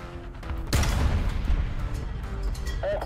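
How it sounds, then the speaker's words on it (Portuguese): Tank gunfire in the War Thunder video game: a sharp, loud cannon blast hits near the start and rolls into a long, rumbling decay, with fainter rattling shots after it. "tem um cara dando muito tiro aqui"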